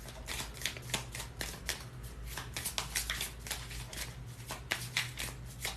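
Tarot cards being shuffled and drawn by hand, a quick run of soft riffling flicks and slaps close up, steady and fairly quiet, with no voices.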